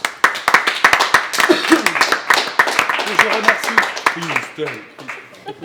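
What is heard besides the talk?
audience applause for a guest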